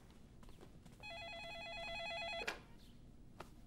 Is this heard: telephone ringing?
yes